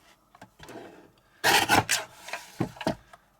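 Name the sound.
trimming cardstock for a card-making kit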